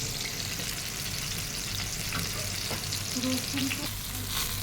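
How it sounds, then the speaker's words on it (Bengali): Steady, close sizzling of brinjal slices frying in hot oil, a continuous crackling hiss with faint occasional stirring. "বেগুনগুলো এইভাবেই ভাজছি।"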